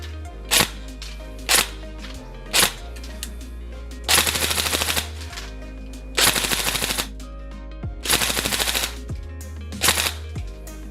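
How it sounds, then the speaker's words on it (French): A Tokyo Marui URG-I 11.5-inch Block 3 SOPMOD airsoft replica with next-gen recoil shock fires in a test: three single sharp shots, then several loud rapid bursts, close and clear with no talking. "Test de tir du URJ Bloc 3 Tokyo Marui."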